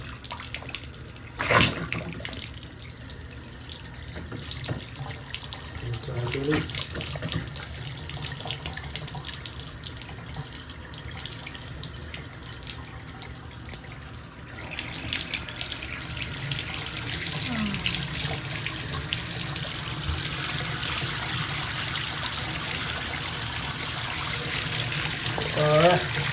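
Hot water runs from a tap after a Moen 1222 valve was replaced, a steady rushing hiss that grows fuller and louder about halfway through, with a brief voice near the start.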